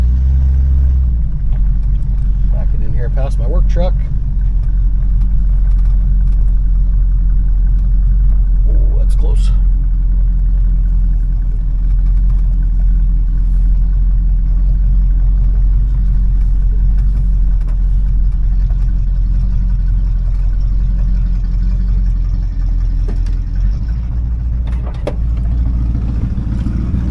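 A 1986 Chevrolet Suburban engine idling and rumbling at low speed while backing in past a work truck, a loud steady low drone with occasional brief clicks and a voice speaking over it.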